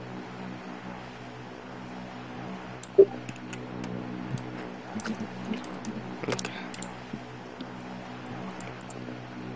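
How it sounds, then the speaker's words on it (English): Computer keyboard keys click in scattered bursts of typing, moderately close, over a steady low hum like an aircraft cabin, with no talk. "I'm just typing to the tower."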